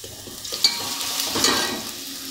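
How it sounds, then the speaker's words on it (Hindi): Garlic sizzling in hot oil in a pan with onion for a spicy spaghetti, a steady frying hiss with light stirring scrapes, a brief clatter near the start, no talk. "इसमें लहसुन जा रहा है"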